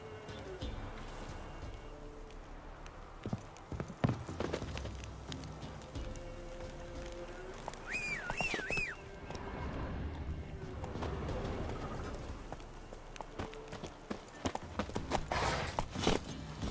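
Roach the horse gallops in The Witcher 3, steady clip-clopping hooves running continuously under game music and ambient sound, with a brief whinny midway.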